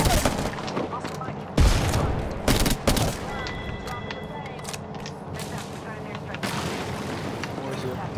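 Gunfire from an Apex Legends match crackles in sharp bursts and booming reports, some near and some more distant, scattered over roughly eight seconds amid game noise, with players talking excitedly around the shots.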